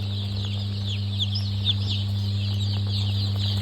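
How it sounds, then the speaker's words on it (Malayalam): Many Rainbow Rooster chicks cheep in a continuous high-pitched chorus over a constant low electrical hum, with no voices present. "rainbow rooster കോഴിക്കുഞ്ഞുങ്ങളാണ്"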